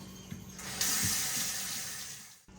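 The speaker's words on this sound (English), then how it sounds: "let me wash my hands real quick." Tap water running hard into a sink during a hand wash, a loud, steady close rush with splashing that cuts off abruptly at the end.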